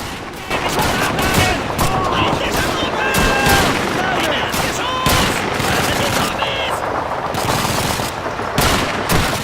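Dense rifle and automatic gunfire from a Call of Duty 2 World War II battle, with rapid overlapping shots and crackling bursts that continue throughout, while someone talks over the shooting.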